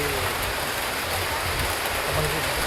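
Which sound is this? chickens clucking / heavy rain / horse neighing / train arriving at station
heavy rain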